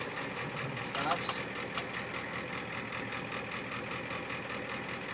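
A 1989 Ford E-350 van's 7.3L IDI diesel engine hums steadily at a low, even idle, with a few brief clatters near the start and soft talking underneath.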